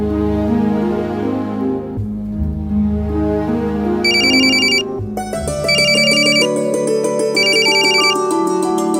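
A phone ringtone rings with bright repeating melodic tones, loud and alone after a held musical passage, its chiming pattern recurring in bursts.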